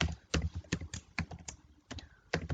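Computer keyboard typing while C++ code is written: quiet close clacks of individual keys in short irregular clusters with brief pauses between them.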